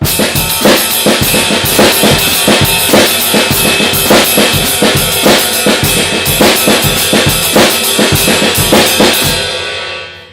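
A steady, busy stick-control drum pattern played loud and close, with accented backbeat hits on two and four landing in a repeating rhythm for about ten seconds.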